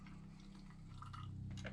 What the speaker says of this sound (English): I'm going to add a little hot water in there.